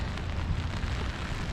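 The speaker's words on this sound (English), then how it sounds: "Just a rainy day in Halifax." Steady rain falling on a rainy day in Halifax, a continuous soft hiss of drops spread evenly across the whole stretch, moderately quiet and with no voices over it.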